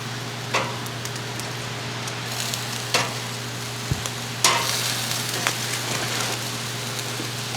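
Bacon sizzles steadily while cooking alongside slow-cooked venison, a close, constant frying hiss broken by occasional pops and crackles, with no talking.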